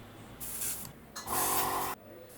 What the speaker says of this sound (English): Blocking off the front nose of the airbrush and blowing air back up into the cup can help clean the nozzle